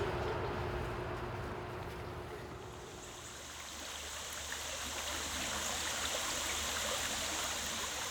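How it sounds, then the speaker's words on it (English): Black Creek, a small creek in Ulster County that feeds the Hudson River, flows with a steady, close, broadband rush of water. The sound holds constant throughout, with no voices. "We're in the Black Creek in Ulster County. This is a small tributary of the Hudson."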